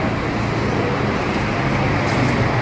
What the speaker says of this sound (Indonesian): Nah, ini bus Kurnia yang Scania-nya.